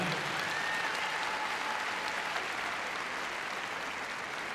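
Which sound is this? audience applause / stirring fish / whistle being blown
audience applause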